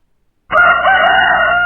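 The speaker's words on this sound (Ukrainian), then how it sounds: "півник," A rooster crows loudly and close up, a single sustained cock-a-doodle-doo starting after a moment of silence.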